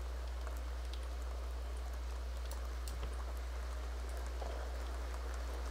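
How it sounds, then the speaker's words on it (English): Rain in the video game The Sims 2, a steady patter of drops on a surface over a constant low hum, with no talk. "It's raining outside. All of a sudden."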